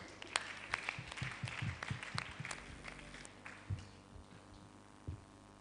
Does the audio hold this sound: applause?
yes